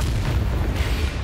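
An Incendio fire spell blasts in the video game Hogwarts Legacy, a loud, rumbling, roaring burst of flame that fills the whole moment with dense low-heavy noise.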